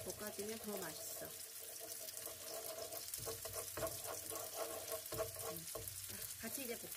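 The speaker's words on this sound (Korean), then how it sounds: "설탕을 볶아주는 거야" Sugar stir-fried in a pan while making Korean kimchi fried rice: a steady close sizzle with spatula scrapes and stirring clatter throughout, and voices faintly mixed in underneath.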